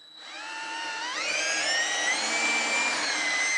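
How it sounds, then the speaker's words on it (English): A power drill whines steadily, its pitch climbing as it bores pilot holes into a 3/4 inch wooden stair tread, loud and near, with no voices. "You want to drill your holes out so you don't split this whenever you drill into it"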